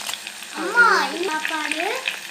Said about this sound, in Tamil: கடுகு போட்டுக்கலாம். சின்ன வெங்காயம் ஆட் பண்ணியிருக்கேன்.